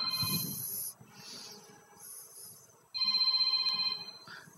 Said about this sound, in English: actually, phone rings.